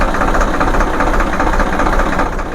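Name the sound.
tractor engine starting and idling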